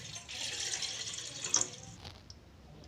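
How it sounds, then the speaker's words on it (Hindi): Water splashes from a glass into a saucepan as the base for a homemade kadha, a short close pour that swells and then trickles off, with no voice over it. "इसमें हम 1 ग्लास पानी डालेंगे।"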